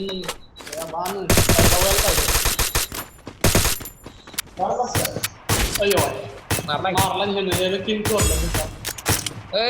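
Rapid bursts of automatic gunfire and single shots ring out in a video game shooter, loud and close, in dense irregular volleys with pauses between, while players talk over the action.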